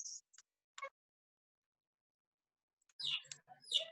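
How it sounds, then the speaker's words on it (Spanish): Small birds chirp in a few short, faint bursts near the start, then a louder flurry of tweets near the end, separated by silence. "Está con los pajaritos."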